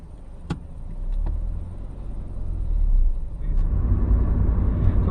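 A learner's car pulls away during a UK driving test manoeuvre practice, with a couple of faint clicks early on, then a low engine rumble that swells steadily as the car moves off.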